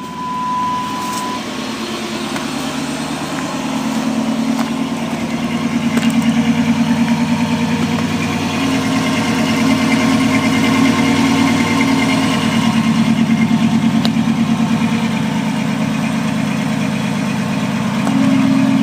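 A 2007 Dodge Charger R/T V8 engine idles steadily with a low, even rumble, heard from outside the vehicle, continuous and fairly loud throughout with no talking.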